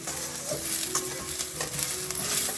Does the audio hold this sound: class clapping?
no